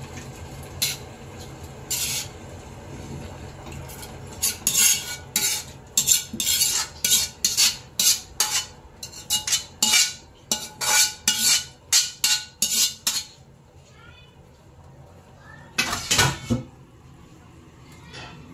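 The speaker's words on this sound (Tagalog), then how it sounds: "Tapos haluin natin." A metal spoon scrapes and clatters against a pot while overload pansit noodles in a little broth are stirred, in a run of loud, rhythmic strokes with pauses and quieter stretches between.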